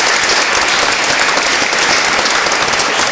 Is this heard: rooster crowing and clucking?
no